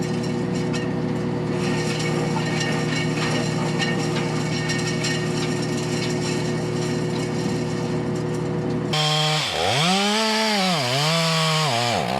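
A chainsaw cuts timber on a farm with a loud, close, steady engine drone, then revs sharply up and down in rising and falling pulls near the end.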